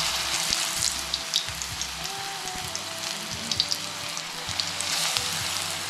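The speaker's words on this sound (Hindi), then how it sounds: "मुझे सूझा कि मैं इनकी पकौड़ी बनाऊं, तो मैंने ये बेसन में मिक्स कर लिया है" Bitter gourd pakoras in gram flour batter frying in hot oil give off a steady, dense sizzle with small pops, close and continuous.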